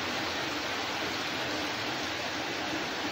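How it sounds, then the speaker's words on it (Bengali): Steady rain falling outside a home kitchen where fish curry with taro is being cooked, a dense, even broadband hiss holding constant throughout with no breaks. "আমাদের এইটা এখন বৃষ্টি হচ্ছে।"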